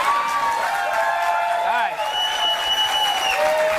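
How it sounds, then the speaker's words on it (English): Studio audience on a late-night talk show cheering and applauding in a sustained crowd roar, with voices prominent over it and a brief spoken word in the middle. "They're applauding that."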